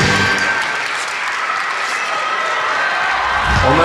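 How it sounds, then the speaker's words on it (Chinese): Audience applause at a 2022 Taiwan Strongman competition, men's U105 weight class, a steady, dense wash of clapping from a sizeable crowd that holds for the whole stretch and swells slightly at the end. "我们给他热情的掌声。"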